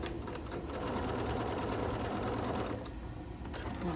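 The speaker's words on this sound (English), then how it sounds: "Just go and sew an 1/8 of an inch." A sewing machine stitches a short eighth-inch seam, a fast continuous mechanical whir that runs steadily up close and fades out at the very end.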